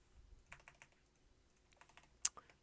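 Computer keyboard keys tapped while an SQL subquery is entered, short bursts of quiet clicks with pauses between them and one sharper key strike near the end.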